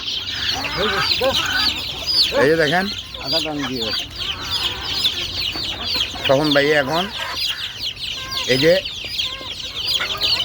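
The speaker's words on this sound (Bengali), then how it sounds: "এই যে আমার চারটা কানা মুরগি আছে" Hens, some blind in one eye and around one and a half to two years old, cluck repeatedly at close range in a poultry house, with someone talking over them.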